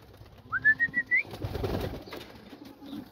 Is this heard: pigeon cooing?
yes